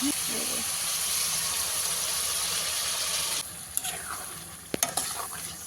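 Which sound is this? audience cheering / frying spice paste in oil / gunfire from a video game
frying spice paste in oil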